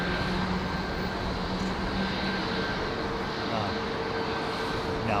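An airliner passes near Heathrow with a loud, steady jet roar and a thin engine whine. The sound stays constant throughout, with no clear rise or fade.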